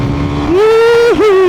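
Suzuki Satria Pro motorcycle engine revving at high RPM, a loud, steady high-pitched whine that climbs sharply, dips briefly, then surges back up.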